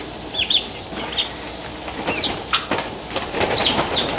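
Month-old turkey poults, about three and a half weeks old and mostly feathered, flap and scramble in a brooder as one is caught, giving bursts of wing flutter, soft scuffling and a few high peeps.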